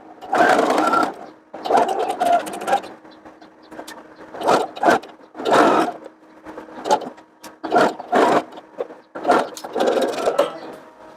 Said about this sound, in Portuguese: E agora a costura.